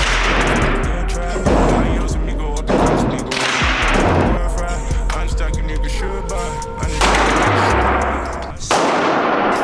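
Gunshots at an outdoor shooting range, a series of loud, sharp reports spaced a second or two apart, each with a ringing tail, close to the listener.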